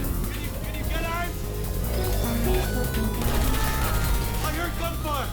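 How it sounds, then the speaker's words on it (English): Automated turret gunfire in the Portal 2 video game, rapid shots crackling amid a dense, continuous mix of game sound effects and music with bursts of synthetic chirps, sustained and fairly loud throughout. "I heard gunfire"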